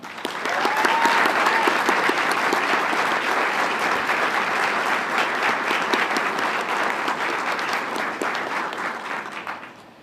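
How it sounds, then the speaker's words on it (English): Audience at a military farewell ceremony at Fort Riley gives a sustained round of applause for Team Habhab, dense continuous clapping filling the room and tapering off at the end, with a brief whistle near the start. "Please join me in a round of applause for Team Habhab"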